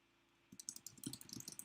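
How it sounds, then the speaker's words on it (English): Rapid clicking keystrokes on a computer keyboard start after a quiet half second, then continue in an uneven, close, fairly soft typing rhythm, with no voice over them. "So you notice that as I'm typing, it's telling me how many characters I've got left."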